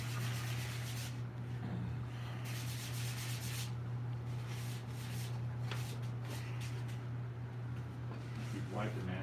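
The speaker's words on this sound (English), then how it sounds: "I'm still using that same little piece of sandpaper that I started over there with" A small, worn piece of sandpaper rubbed by hand over a rough-textured surface, giving a steady, close scratchy hiss in short strokes over a constant low hum.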